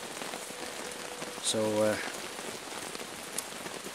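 Steady rain patters on a camping tarp at a wild camp in the woods, a soft even hiss throughout, with a brief voice heard partway through.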